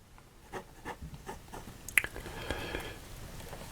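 A Moonman fountain pen with an M6 number 6 nib moves across paper, making soft, faint scratchy strokes in short rhythmic bursts close by, with a small tap partway through.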